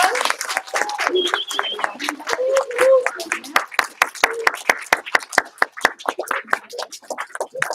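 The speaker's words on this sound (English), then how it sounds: "Everybody give her a huge round of applause." A small group of students in a martial arts class claps for a student who has earned a white belt, sharp distinct claps that settle into a loose rhythm, with talk over the start.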